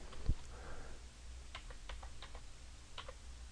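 Several light keystrokes tap on a computer keyboard in a quiet room, a short irregular run of soft clicks heard up close.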